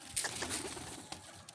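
Pigeons coo softly at a rooftop loft, a faint, brief low cooing with light fluttering and background noise, no talk.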